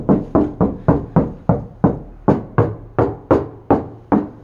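Knuckles knock on the door of a 1969 Plymouth Barracuda after insulation has gone in, giving about twelve evenly spaced, close, fairly dull raps in a steady rhythm.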